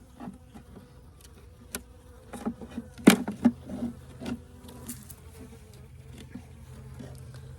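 Honeybees at an open hive in early February during syrup feeding with a frame feeder, a soft steady insect hum with scattered brief louder buzzes and small handling knocks, no talk.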